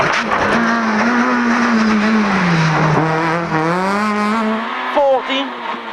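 Rally car — a little Citroën C2 R2 Max — driven hard on a Circuit of Ireland stage in 2010, its engine note rising and falling continuously, loud and close, with a co-driver's voice calling over the noise.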